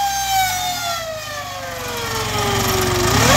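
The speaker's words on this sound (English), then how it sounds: "sounds like a Star Wars speeder on acceleration" A car engine accelerates with a faulty, whining, speeder-like sweep: a strong tonal whine glides steadily downward, then climbs again as the engine revs up. It sits over a low rumble and sounds close and fairly loud, with no talking.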